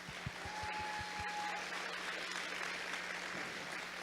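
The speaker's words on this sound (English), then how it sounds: "let's give them all another round of applause" An audience applauds at the closing ceremony of a robotics competition event, a broad, steady wash of clapping from a large crowd in a hall, with a few low thumps near the start.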